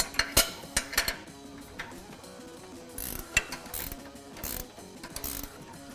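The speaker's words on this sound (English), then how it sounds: "We can then remove the bolts holding in the upper control arm. You'll need an 18mm wrench and also a 21mm wrench." Wrench turning the upper control arm bolts on a Ford F-150 Raptor, a series of close metallic ratcheting clicks and clanks in irregular bursts, fairly quiet with short pauses between them.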